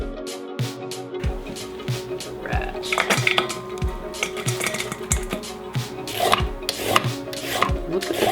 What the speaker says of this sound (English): let's get this cabbage chopped up